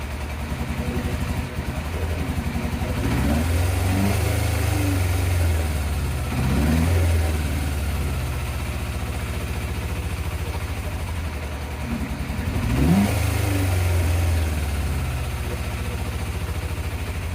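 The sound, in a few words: Yamaha FZR 1000 motorcycle engine running and revving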